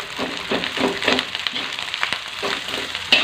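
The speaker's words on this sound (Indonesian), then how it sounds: "Sekarang tinggal kita masukin nasi. Kita masukin aja langsung nasinya." Rice goes into spice paste with chili and pete frying in a pan for nasi goreng, a close, steady sizzle and crackle with soft stirring scrapes throughout.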